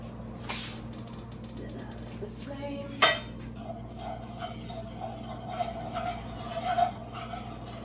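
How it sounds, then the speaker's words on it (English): A metal spoon clinks and scrapes lightly against the bottom of a cooking pot while oil is spread around, a few soft taps and one sharper clink over a steady kitchen hum. "I will evenly distribute the oil to the bottom of the pot."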